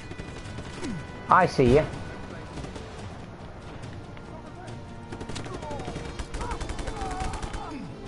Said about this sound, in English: I don't see where you're shooting from.